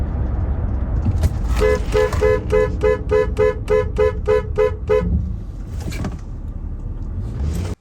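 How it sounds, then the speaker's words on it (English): A car horn is sounded in a steady, rapid series of about ten evenly spaced short toots over a constant road and engine rumble, with no talk over it. "begin a steady, rapid honking, like this."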